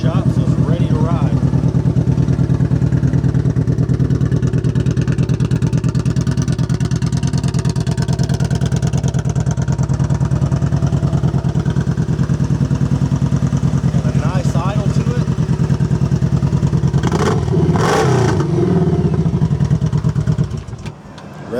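A Kawasaki Vaquero VN1700 motorcycle with Vance & Hines exhaust pipes idles with a loud, steady low rumble, then revs briefly near the end before cutting off.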